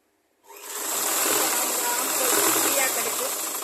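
A sewing machine runs steadily while stitching a blouse sleeve, starting after a brief silence and then holding a continuous close, even whirring hum to the end.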